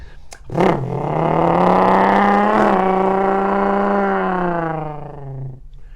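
A beatboxer vocally imitates a motorcycle engine with a buzzing, rising drone that holds steady for several seconds, close and loud, then fades out.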